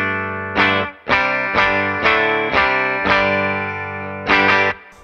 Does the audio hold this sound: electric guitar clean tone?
yes